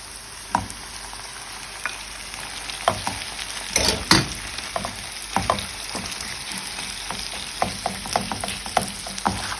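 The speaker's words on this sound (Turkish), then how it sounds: "Tavuklarımı da şöyle doğradım. Şimdi bunları da ilave edeceğim. Güzelce kavuracağım." Steady sizzling of chopped chicken frying in a pan, with irregular crackles and pops and occasional clinks of a utensil stirring, no voices.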